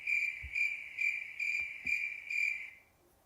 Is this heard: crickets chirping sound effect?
yes